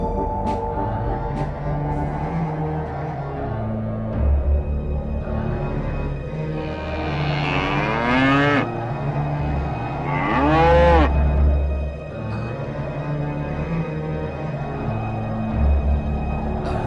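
A cow moos twice in long, drawn-out calls, close and loud, over a steady musical backing with no talking.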